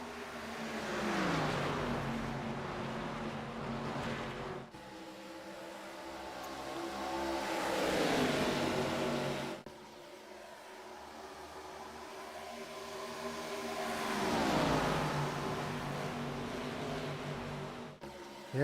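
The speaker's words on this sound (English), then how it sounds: "Here comes a 10 of John Smith, trying to move himself up towards the front." ARCA Series stock cars race at Texas Motor Speedway, their engine roar swelling and fading as packs of cars pass in repeated waves, with a steady hiss of track noise between passes.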